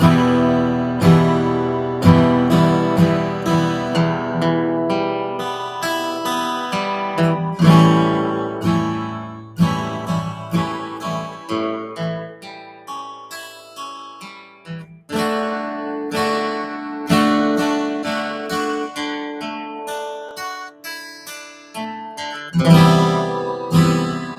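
An acoustic guitar plays straight through a technique exercise, with quick rhythmic strums and picked notes in bursts and short pauses, close and clear, with no talking.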